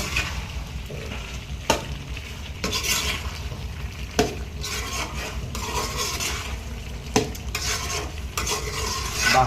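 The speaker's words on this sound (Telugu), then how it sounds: "కారం వేసుకుని తిప్పుకోవాలండి బాగా." Curry being stirred in a pan after chili powder and garam masala go in, with steady sizzling and frying throughout and repeated scraping strokes of a spoon against the pan, close and continuous with no talking.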